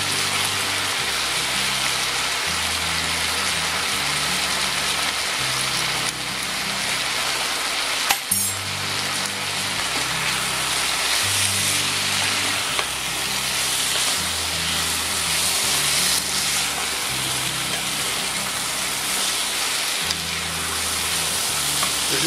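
Veal and flour fry in a pan with a steady loud sizzle and hiss throughout, along with occasional stirring clinks and a background hum that pulses in a regular pattern.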